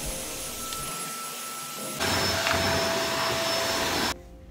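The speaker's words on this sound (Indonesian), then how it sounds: "jadi harus pakai vakum." Vacuum cleaner running on carpet and floor, a steady loud whine that surges louder midway, then cuts off near the end, with no talk.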